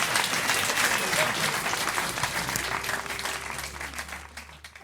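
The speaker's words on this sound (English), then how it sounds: "A well-deserved round of applause, please, for Jack Blackman." Warm round of applause from a small folk club audience, fairly close and lively at first, then gradually tapering off over a few seconds with a low steady hum underneath.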